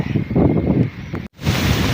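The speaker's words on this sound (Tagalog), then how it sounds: "ang lakas ng hangin, oh. ang lakas ng alon." Heavy wind buffets the microphone in a steady roar while fishing for milkfish, with a broad rushing wash of strong waves. The noise cuts out briefly, then resumes strongly.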